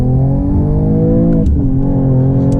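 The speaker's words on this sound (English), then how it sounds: "This is a second gear pull." The turbocharged engine of a Mercedes-AMG GT 53 pulls hard in second gear, a loud steady drone climbing in pitch, briefly dipping mid-run as if shifting, then rising again in the cabin.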